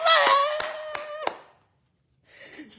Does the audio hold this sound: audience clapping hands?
yes